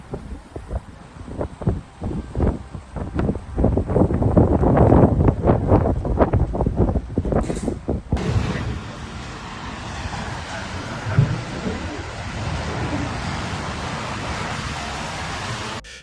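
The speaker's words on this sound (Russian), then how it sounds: "Затем на город обрушился шквал, вырывавший деревья с корнем и сносивший рекламные билборды." A strong storm squall roars through Kyiv after extreme heat, as broadband wind gusts batter the microphone loudly for several seconds before an abrupt cut to a steadier, softer rush of wind.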